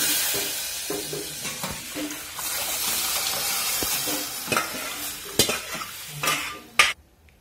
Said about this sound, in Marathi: तर आता फोडणी पण दिली भाजीला